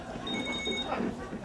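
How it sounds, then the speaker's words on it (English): An indoor telephone ringing, a short electronic trill heard moderately loud against background room noise and faint talk, lasting barely over a second. "Oops, the phone."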